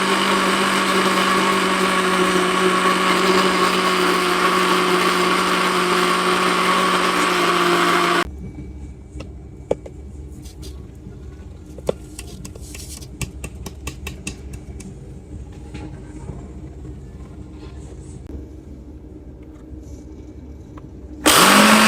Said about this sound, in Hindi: बस अब मैं इसको ग्राइंड करने लगी हूँ।